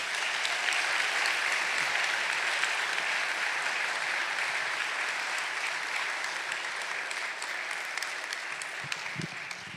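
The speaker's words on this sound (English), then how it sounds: "Please give everyone a big round of applause again." Sustained applause from a school concert audience at an evening arts event, a dense steady wash of clapping hands filling the hall for about ten seconds with no talk.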